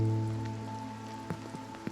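Rainfall in the video game The Haunting of Joni, a gentle steady wash over a low indoor drone, with a few sharper drip-like taps near the end.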